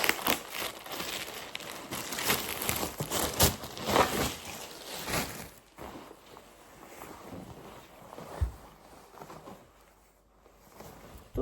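Plastic bag crinkling and rustling close by, busy and irregular at first, then quieter handling with occasional soft crackles.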